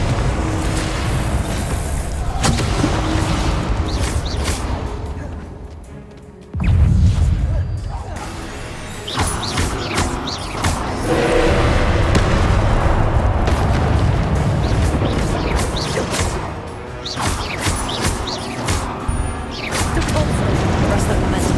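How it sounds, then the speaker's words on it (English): Confringo fire-blast spells in Hogwarts Legacy go off as repeated heavy booms and crashing bursts in a chaotic combat mix, with a strong blast partway through and dense whooshes and impacts around it. "Expelliarmus. Confringo."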